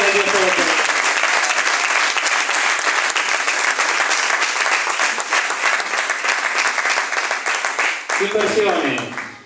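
A congregation applauding at a revival church service, loud continuous clapping from a large crowd that fades out near the end, with a voice speaking briefly at the start and close.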